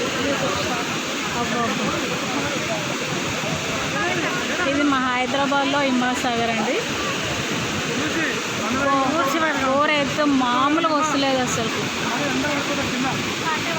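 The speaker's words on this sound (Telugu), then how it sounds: "వాటర్ సౌండ్ చూడండి ఏ విధంగా వస్తుంది" Water rushes steadily and loudly through the opened gates of the Himayat Sagar dam in Hyderabad, a constant roaring wash that continues without a break while people talk over it.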